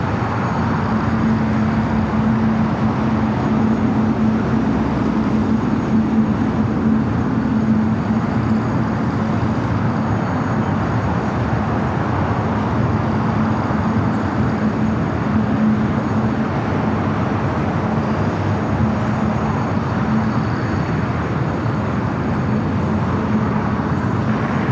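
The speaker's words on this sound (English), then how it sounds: "Got that United Dreamliner number 2 for arrival on the north." A United Dreamliner jet arrives at LAX, its steady broadband engine roar and rumble holding continuously and fairly loud throughout, with a low hum underneath and no talking.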